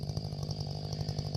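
A Stihl 500i chainsaw runs at full throttle, a loud, steady, close buzzing whine with a fast rhythmic pulse and no talking.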